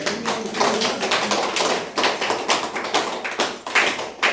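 An audience claps hands in a dense, irregular patter of many overlapping claps, close and fairly loud, sustained for several seconds without speech.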